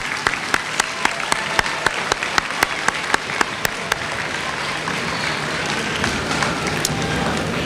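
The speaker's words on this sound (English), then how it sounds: "would you take a moment and applaud those family members that are here tonight?" Steady applause from a sizable crowd at a high school graduation, dense and continuous, with sharp individual claps standing out in the first half before it settles into a smoother roar.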